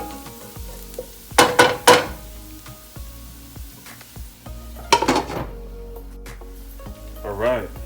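Garlic fries in a pan for tomato sauce, a low steady sizzle broken by a few sharp clattering bursts of utensil against pan, with someone speaking over the cooking.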